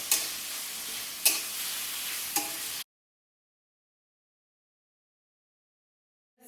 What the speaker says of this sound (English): Just saute it till the tomatoes are finely cooked